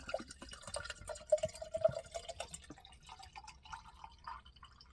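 Water is poured into a small 16-ounce container inside a converted-ambulance van: quiet, close trickling and dripping with a rising fill, soft throughout and without speech.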